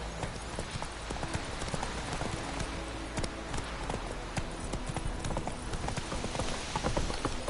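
Hooves of Geralt's horse Roach clip-clopping in a steady trotting rhythm in The Witcher 3, clear and continuous against a soft outdoor game ambience.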